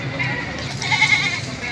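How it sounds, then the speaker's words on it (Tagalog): A goat bleats at a busy livestock market in Batangas, a short wavering cry close by amid the background murmur of the crowd. "Ito ay kambing."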